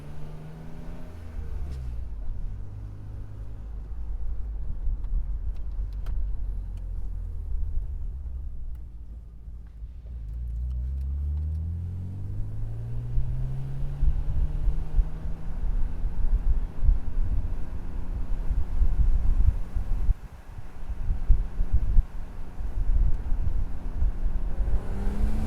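A BMW M Roadster with the top down drives and accelerates through the gears, its engine rising and falling in pitch under steady wind rush, with the drone growing busier and rougher toward the end.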